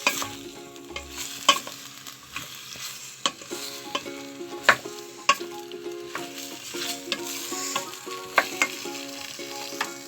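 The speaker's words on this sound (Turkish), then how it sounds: "Evet patatesleri yaydık kavurduk" Potatoes being sautéed with tomato paste for mıkla hiss steadily in the pan, while repeated sharp clicks and scrapes of a utensil stir them at irregular intervals over a faint tonal background.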